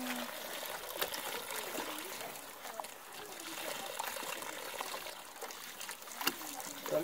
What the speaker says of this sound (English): Add some water and make it a nice slurry.